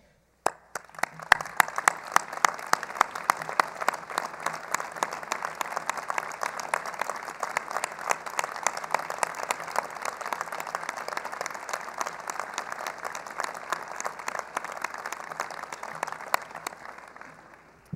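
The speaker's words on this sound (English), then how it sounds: "please stand for our applause" An audience at a medical school graduation gives sustained, even applause of many hands clapping, steady and moderately distant for the whole stretch, thinning slightly at the close.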